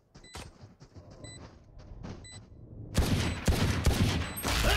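Rapid gunfire erupts in a first-person shooter video game on the Ascent map, with faint clicks and beeps at first, then a loud, dense burst of repeated shots that continues to the end, without talking.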